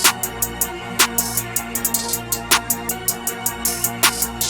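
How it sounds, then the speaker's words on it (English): A trap beat for a dark trap track, with fast hi-hat rolls ticking in tight bursts over a deep bass and steady kick pattern, loud and up front, with no voices. "put something like hi-hat rolls every now and then"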